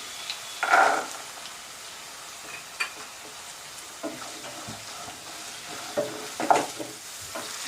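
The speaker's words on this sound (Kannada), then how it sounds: "ನೋಡಿ ಹಸಿ ಬಟಾಣಿ ಕೂಡ ಎಣ್ಣೆಯಲ್ಲಿ ಚೆನ್ನಾಗಿ ಫ್ರೈ ಆಗಿದೆ." Green peas frying in oil in a pan for veg fried rice, with a low steady sizzle broken by a few louder stirring scrapes and clinks at intervals; no talking.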